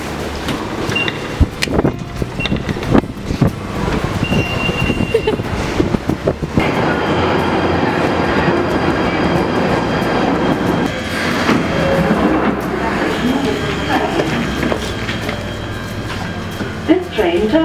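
A train rolling along rails, with rumbling wheels, rattling cars and clicks over track joints, loud and close throughout, with people talking over it.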